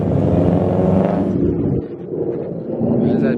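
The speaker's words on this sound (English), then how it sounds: "bro, we got a Supra and a Mustang racing" A Toyota Supra and a Ford Mustang racing, with loud, close engine roar and revving that dips sharply halfway through before building again.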